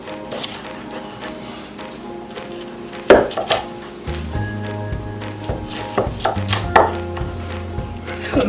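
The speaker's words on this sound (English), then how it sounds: "Cutting right through there, guys." Large knife slicing between the bones of a rack of smoked St Louis style ribs, giving a few sharp cracking cuts against a steady background hum, close and fairly loud.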